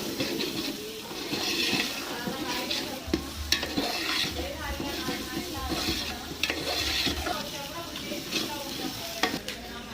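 Paneer stir-fried until golden, giving a steady close sizzle broken by frequent scraping and clinking of a spatula against the pan.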